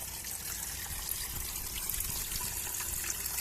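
Water flowing down from a solar powered water pump by gravity, a steady splashing trickle and gush into a container, close and continuous with no talking.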